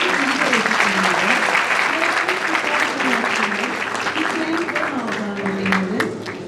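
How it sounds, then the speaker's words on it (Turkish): Sustained audience applause fills a Turkish music concert after a romantic song, loud and steady throughout, with held instrumental notes sounding beneath the clapping. "Alkışlarınız Efendim"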